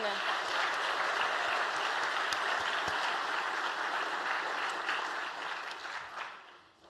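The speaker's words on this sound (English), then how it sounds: "Can we please give a massive round of applause to our top 10?" Audience applause for the top 10 pitching teams at a summer startup showcase, a broad steady wash of clapping from a crowd that holds even for several seconds before thinning and fading at the end.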